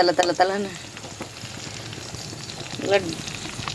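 Garlic and green chilies fry in oil for a sepang kilangu kaara kulambu, a soft bubbling sizzle running under a person's talk nearby.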